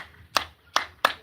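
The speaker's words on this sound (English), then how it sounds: "Hands clap, double, single." Three sharp hand claps ring out alone: one, then a pause, then two in quicker succession.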